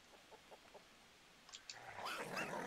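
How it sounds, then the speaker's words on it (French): A chicken in the game Endling gives a few soft, spaced clucks, then a louder flurry of squawking near the end, with no talk. "Il y a un poulet, c'est cool."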